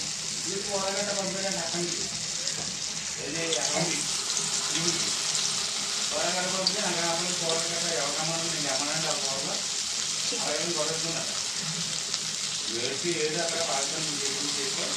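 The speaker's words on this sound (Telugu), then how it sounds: "ఓకే అండి ఇవి బాగా ఫ్రై అవ్వాలండి" Urad dal garelu (vadas) deep-frying in hot, boiling oil, giving a loud, steady sizzle that runs the whole time while a person talks over it.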